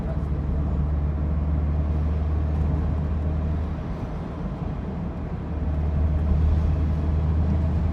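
A 1985 Alfa Romeo drives through corners, its engine and road noise forming a steady, loud, close rumble that dips briefly midway before swelling again, with no talk over it.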